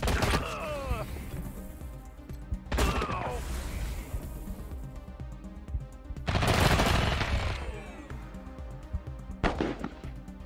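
Gunfire in the video game Wasteland 3 during a shootout: several loud bursts of shots and impacts at intervals, with lower background game noise between them.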